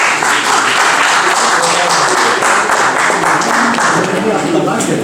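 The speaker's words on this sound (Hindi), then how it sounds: "जोरदार तालियों से स्वागत करिए।" At an award ceremony, a crowd welcomes an honoree with dense, loud, continuous applause that fills the room. A voice speaks over the clapping.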